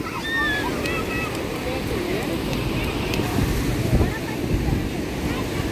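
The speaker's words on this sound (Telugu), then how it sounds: "ఎంత పెద్ద పెద్ద అలలు వస్తున్నాయి చూడండి." Ocean surf rolling onto RK Beach in Visakhapatnam, a steady broadband wash of breaking waves with wind across the microphone, continuous and fairly loud throughout with faint crowd sounds in the background.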